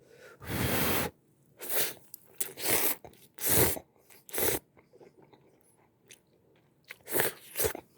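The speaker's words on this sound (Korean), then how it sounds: "이제 유부 먹어볼게요" Biting and chewing fried tofu from Ottogi katsuo udon cup noodles, a series of close, crisp wet bites and chews in irregular bursts with quiet gaps between them.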